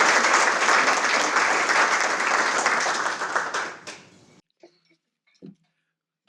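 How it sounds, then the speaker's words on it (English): A luncheon audience at a chamber of commerce business event gives a warm round of applause welcoming the Pirates president, steady clapping that fades out after about four seconds, followed by faint scattered sounds. "Appreciate the warm welcome from everybody, the warm round of applause"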